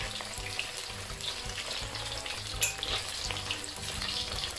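Marinated pork pieces deep-frying in bubbling oil over medium-high heat, a continuous dense crackle and sizzle with small popping bursts, steady and fairly quiet.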